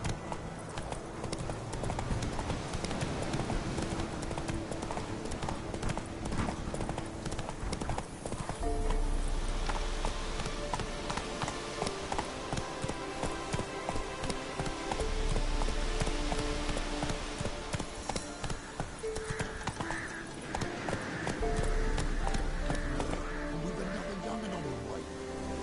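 Horse hooves clip-clop steadily as Roach is ridden in the game Witcher 3, a rhythmic trot mixed with game music and ambient sound throughout.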